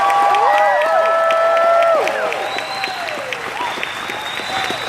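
A live motivational seminar crowd breaks into loud applause and whoops, dense clapping that fades after a couple of seconds into scattered claps, while sustained tonal whistles and shouts ring over the top.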